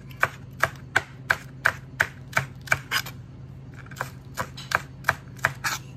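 A knife chops green onion on a cutting board in a home kitchen, about fifteen sharp, evenly spaced taps in two quick runs with a short pause between, close and distinct over a low steady hum, with no talking.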